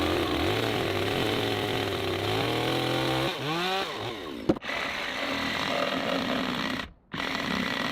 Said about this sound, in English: Then the edges are smoothed with a grinder, so the wood finish looks perfectly clean